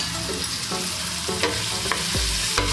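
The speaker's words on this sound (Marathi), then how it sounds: "कांदा चांगला गुलाबी रंगावर परतून घ्यायचा।" Finely chopped onion sautéing in a pan for veg pulao, giving a continuous close sizzle and periodic scraping stirs, with a low rumble near the end. No speech.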